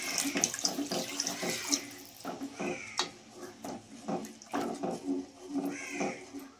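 Water is poured into a cashew pakoda curry masala, heard as splashing, gurgling bursts that come and go, with some clattering and brief higher-pitched cries mixed in.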